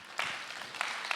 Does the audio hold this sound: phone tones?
no